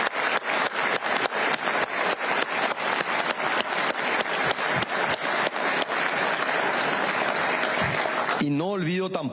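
Lawmakers in the Paraguayan Congress applaud during a presidential report, with many sharp claps falling in a steady, almost unison rhythm for several seconds before a voice speaks at the end.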